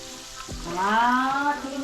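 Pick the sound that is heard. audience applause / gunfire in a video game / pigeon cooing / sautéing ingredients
sautéing ingredients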